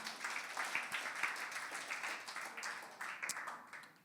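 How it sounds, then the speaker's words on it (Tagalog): A church congregation applauds during a worship service, with fairly faint, continuous clapping from a distant crowd that stays even throughout. "Sige po, malakas sa palakpak."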